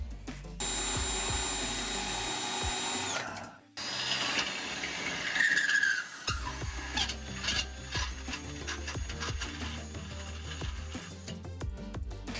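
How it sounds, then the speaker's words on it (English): Steady grinding whine of a drill boring into the metal frame of a 2013 Smart ForTwo for a trailer hitch, pausing briefly, then continuing with rougher scraping and rattling as it works through. "I need to drill a hole on the passenger side."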